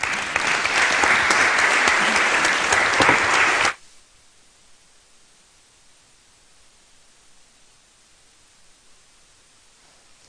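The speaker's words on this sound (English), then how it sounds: "So I hope everybody will join me in a round of applause" Loud, dense audience applause at a Brexit Party talk with Richard Tice MEP, sustained for nearly four seconds and then cutting off abruptly into quiet room tone.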